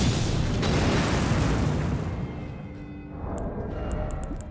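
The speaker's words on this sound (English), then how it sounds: "Explosion." A loud explosion in a video game, a dense deep boom that fills the opening seconds and then rumbles on, fading slowly, with faint clicks near the end and no speech.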